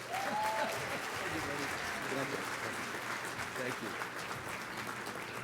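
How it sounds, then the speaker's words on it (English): Audience applause welcoming the Honorable Henry Cisneros at a symposium lunch, a steady wash of clapping that carries on evenly from start to finish with some faint voices mixed in. "Please give a big warm applause to one of my mentors, one of our heroes in our community, the Honorable Henry Cisneros."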